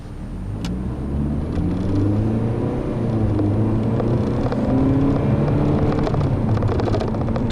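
A 2013 Ford Escape S FWD with a 2.5 engine cruises on a test drive, its steady low engine and road rumble heard from inside the cabin, gently building in loudness with a faint high whine above.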